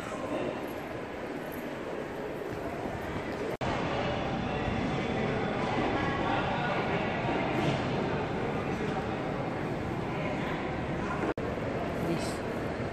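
At Sydney Central Station at night, a train gives off a steady broadband rumble and rush that fills the whole stretch at a moderate level, with a couple of sharp clicks along the way.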